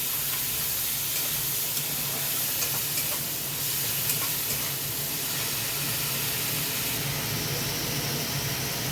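Onion paste frying in hot oil in a pan while being stirred, for a koi fish curry: a steady, close, continuous sizzle and hiss with soft scraping of the spoon, and no voices throughout.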